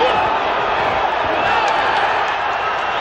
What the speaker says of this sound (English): Crowd yells, but that was a slip. Crowd thought it was a knockdown.